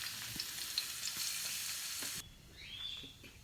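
Garlic sizzling steadily in a hot pan while cooking chicken tinola, a loud, dense frying hiss with a few soft clinks of stirring. Partway through, the sizzle suddenly drops to a quieter crackle.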